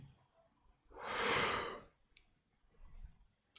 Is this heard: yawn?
yes